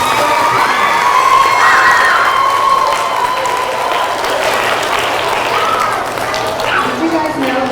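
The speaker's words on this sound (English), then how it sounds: "All right, clap for yourselves" Incoming sixth-grade middle school students burst into loud, sustained applause, with cheering and children's shouts rising over the clapping throughout.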